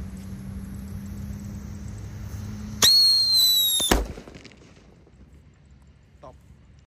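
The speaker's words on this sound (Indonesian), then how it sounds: "Lanjut di sini ada Whistling Sweater, kita nyalakan bosku" A Whistling Sweater firecracker lit ahead of Ramadan shrieks with a loud, piercing whistle for about a second, then cuts off sharply. A low hum lingers before it, and faint crackles follow.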